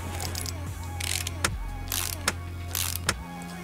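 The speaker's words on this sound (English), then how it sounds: "I'm sure that was the clank of a torque wrench" Repeated metallic clanks from a torque wrench in Car Mechanic Simulator 2018 while working on a 1951 Holden FX Coupe Utility, three sharp hits spaced about a second apart over a steady low mechanical hum.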